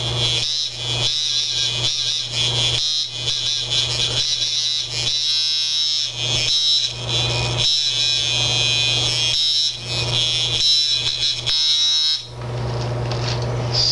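A tattoo machine runs at 6.5 volts and 154 hertz, a steady loud electric buzz with a strong low hum, pulsing slightly through its duration before the tone shifts near the end.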